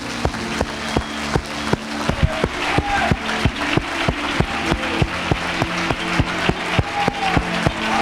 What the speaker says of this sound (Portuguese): Levanta suas mãos e aplauda o Senhor bem forte.